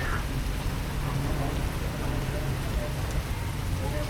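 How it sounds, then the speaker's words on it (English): Rain falling during a bike tour in Phnom Penh, Cambodia, a dense, steady hiss of drops that continues evenly throughout, fairly loud and close, with no clear voices over it. "Show them the rain."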